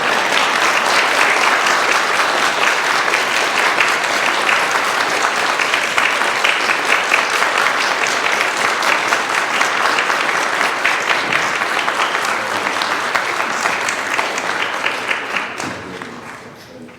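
A church congregation gives a warm round of applause at an Advent service for a deacon, steady dense clapping filling the space for a long stretch before tapering off at the end.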